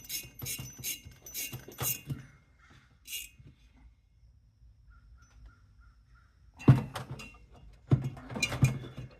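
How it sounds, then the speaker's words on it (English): Nuts being tightened on the head of a Predator 9500 inverter generator during head replacement, heard as a few close bursts of quick ratcheting clicks at the start and again near the end, with a quiet pause between. "we're just going to tighten it all the way in"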